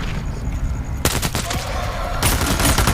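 Gunfire in the VR shooter Into the Radius 2 during a mission in the Outskirts of Pechorsk: a loud burst of rapid automatic shots starting partway through, then another sustained burst, over constant background noise with no talk.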